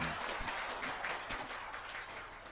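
Audience applause fills a hall during a motivational talk, a steady, dense wash of clapping at moderate distance with no voices over it.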